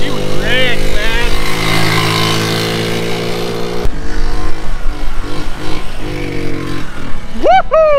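A rat rod wagon go-kart's small engine runs after carburetor tuning, a steady loud drone that shifts partway through to a rougher, uneven run with revs rising and falling, with people talking and whooping over it.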